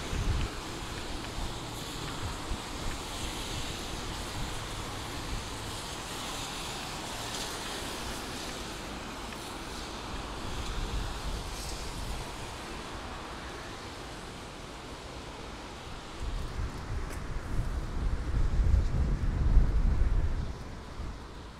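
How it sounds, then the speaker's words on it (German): Wind blows steadily outdoors in Rüttenscheid in winter, a broad rushing roar that swells into stronger gusts near the end, with no voices heard. "Hier merkt man wieder der Wind, wie er bläst."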